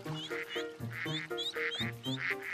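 Ducks quack repeatedly in quick, overlapping bursts, close and fairly clear, with no talking.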